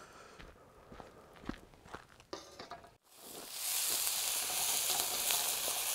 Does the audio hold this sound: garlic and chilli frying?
yes